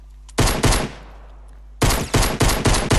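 Video game gunfire in Fortnite, two loud quick shots followed after a pause by a rapid burst of five shots, close and sharp over a steady low hum.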